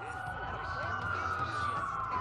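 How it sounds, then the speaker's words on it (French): Police sirens wail in the video game Watch Dogs, a steady rising-and-falling tone carrying through a busy street soundscape with voices talking underneath. "Ça fait beaucoup de sirènes pour une coupure."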